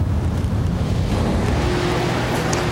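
Strong wind blows outdoors, a loud, steady rushing buffet against the microphone with low rumbling gusts, no voices.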